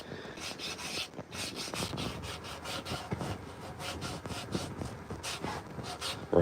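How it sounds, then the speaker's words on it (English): A carved wooden spoon is sanded by hand in a workshop, giving a steady run of rhythmic rasping strokes, close and continuous, with no talk. "So we're gonna do a little sanding"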